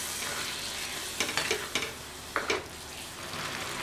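A spoon scrapes and clinks a few times in a pan of butter bean and potato milk curry over a steady soft sizzle, close by and without speech.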